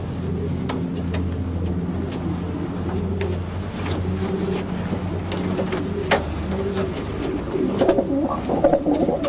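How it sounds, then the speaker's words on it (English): Pigeons coo softly and repeatedly in a loft while a light-framed hen pigeon is handled and set back down, with faint rustles and a few sharp clicks against steady background hum. "Beautiful pigeon this. Very light framed. Very, very light framed pigeon."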